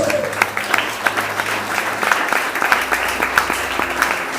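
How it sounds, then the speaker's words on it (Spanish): Applause from a church congregation at a sermon, a steady wash of clapping with sharp individual claps throughout, moderately loud and fairly close, with some faint voices mixed in. "Brinde un fuerte aplauso a Dios"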